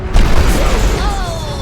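Uproar explosions in Dota 2, a dense booming burst amid busy match noise, with a commentator talking over it.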